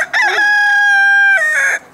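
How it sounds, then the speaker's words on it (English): A rooster crows once up close, a loud, clear cock-a-doodle-doo with a long sustained middle note before it trails off, heard alone without any voices. "Yeah, I finally hear you crow."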